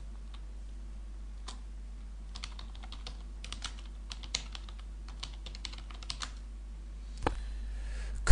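Typing on a computer keyboard, with steady soft key clicks and occasional louder taps over a constant low hum, close by and with no talking.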